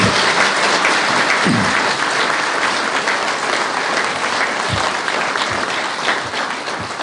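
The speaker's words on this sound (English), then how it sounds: "So please give a big round of applause to the Prime Minister" An audience at a business conference gives a sustained round of applause for Prime Minister Imran Khan of Pakistan, loud, dense clapping filling the hall from start to finish.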